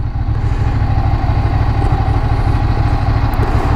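A Ducati 600SS motorcycle engine runs close by, a steady, loud mechanical idle with a low pulsing throb and constant clatter, holding even throughout with no speech.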